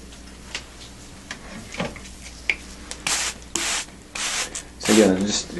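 Hissing squirts from a handheld spray bottle rinsing conditioner off a scalp after a hair transplant, several short bursts growing louder toward the end, with soft rubbing sounds between them.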